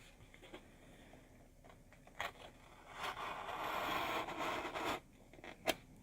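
A blade scrapes and slices through stiff poster board in a sustained rasping stroke, with a couple of short sharp scratches before and after, close up.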